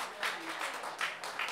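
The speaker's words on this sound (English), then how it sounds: "Big round of applause, ladies and gentlemen." At a wedding reception in a supper club, an audience breaks into applause, a soft scattered patter of clapping that swells in a few bursts across a short stretch.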